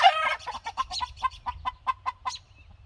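Backyard chickens cluck close by in a quick, rhythmic series of about a dozen short calls, loud and clear against a quiet background with a low hum underneath.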